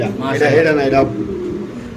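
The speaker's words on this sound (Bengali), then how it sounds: "দর্শক ফিরোজ হাতে আছে বুদাপেশ কবুতরের বেবি" Budapest pigeons coo close by in a short burst of soft, rolling calls, fading after about a second.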